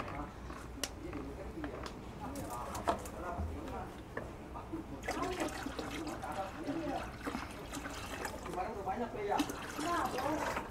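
Raw water is poured into a grape AB mix nutrient solution, giving a continuous trickling splash with light clatter, while a voice murmurs faintly in the background.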